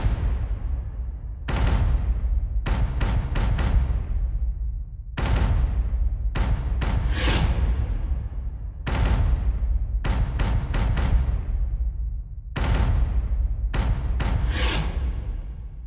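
Native Instruments Action Strikes cinematic drums in a techno track's intro and break: loud, punchy bursts of rapid percussion hits grouped in phrases, separated by brief gaps, with a heavy low-end boom.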